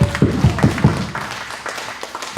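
A church congregation applauds at a founding worship service, with a short burst of sharp, close hand claps that fades into softer scattered clapping and low room noise.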